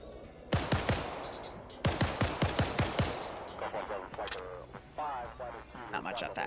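Heavy 12.7mm machine gun fire on a perimeter in Arma 3, loud rapid bursts of several shots each, repeated in clusters, with radio-style voices talking over and between the bursts.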